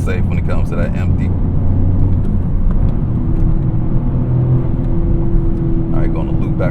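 A Toyota GR Corolla's engine hums and drones steadily while driving, with a low rumble and a rising tone partway through that suggests revs building, heard from inside the car.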